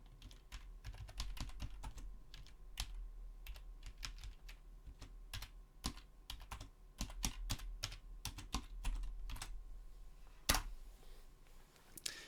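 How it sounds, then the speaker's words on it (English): Fingers tap on a computer keyboard in a quick, uneven stream of close, soft clicks with one louder key strike near the end, no voices over it. "I'll type something in here."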